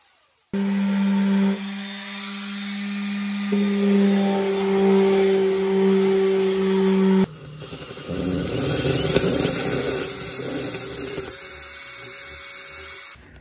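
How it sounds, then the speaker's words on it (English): Power saw cutting a 19-inch wheel from maple plywood, a loud sustained motor whine that shifts pitch midway and grinds on with rougher cutting noise before stopping. "I'm gonna cut a 19-inch diameter wheel out of this piece of plywood."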